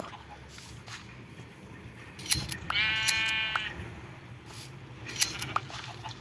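A single sheep bleats in a video game, one wavering call of about a second rising out of quiet background noise, surrounded by soft clicks.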